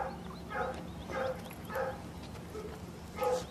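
Several faint, distant dog barks come at a loose rhythm, roughly one every second or so, over a quiet background.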